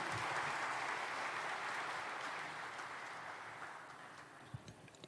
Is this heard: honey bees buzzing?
no